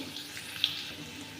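Khichuri ingredients fry in a pan with a brief, steady sizzling hiss at moderate volume, broken by one small pop.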